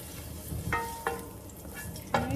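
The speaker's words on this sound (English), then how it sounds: "Now it's getting a little sizzly." Crushed red pepper sizzling in a hot pan, a steady close frying hiss broken by three or four sharp stirring scrapes against the metal.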